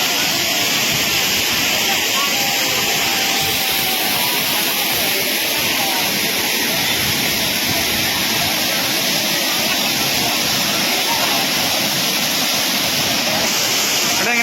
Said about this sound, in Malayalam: ആനേടി വെള്ളച്ചാട്ടം